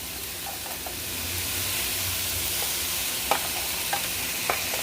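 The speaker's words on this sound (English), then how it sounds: "I'm just gonna saute these vegetables" Vegetables sauté in olive oil in a skillet over medium heat, giving a steady soft sizzle with a few light clicks of stirring, close and moderately quiet.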